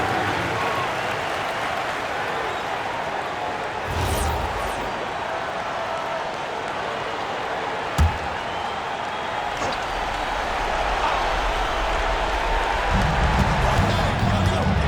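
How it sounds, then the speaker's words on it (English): Crowd at a Portland Trail Blazers basketball game applauding and cheering for the Blazer dancer, a broad sustained roar of clapping with a sharp thud near the middle and an arena announcer talking over it. "Another round of applause for your Blazer dancer."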